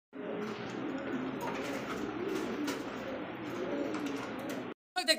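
Pigeons, including a yellow-coloured pair, coo and call steadily at close range for about five seconds, a continuous murmuring flock sound, then it cuts out briefly before resuming.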